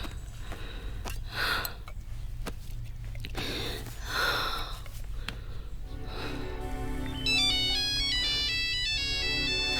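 A mobile phone ringtone starts partway through and plays a repeating melodic tune, following several seconds of breathy sniffing sounds indoors.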